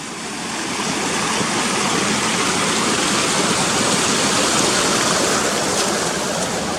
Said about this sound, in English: Right, that's that river across.